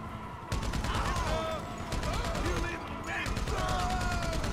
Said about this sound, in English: Hey, machine gun.